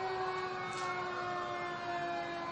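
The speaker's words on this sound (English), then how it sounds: "We have Fitchburg Fire Engine 4 coming through." A Fitchburg fire engine's siren sounds during the Fitchburg Civic Days parade. It is a steady, sustained tone that holds loud and close throughout, with crowd and street noise underneath.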